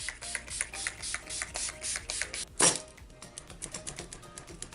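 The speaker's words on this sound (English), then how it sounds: "just give myself a good spritz" One short, sharp hiss of a makeup setting spray bottle spritzing stands out midway, surrounded by quiet tapping and rustling handling sounds.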